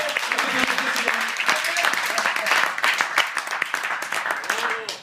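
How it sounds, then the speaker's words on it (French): A church congregation applauds and cheers for Jesus during a sermon, filling the room with dense, sustained clapping mixed with voices for about five seconds. "Acclamons encore Jésus."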